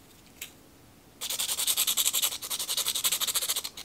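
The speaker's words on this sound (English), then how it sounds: "start working on my sanding" Rapid, rhythmic rasping strokes of sanding exposed pencil graphite to a point, close and crisp, starting after a brief scrape and continuing steadily.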